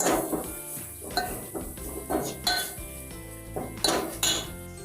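A spice masala with turmeric is roasted and stirred in a pot, heard as a busy run of metal spoon clinks, scrapes and knocks against the pot. The clatter comes close and irregular, about a dozen strikes, with no talk.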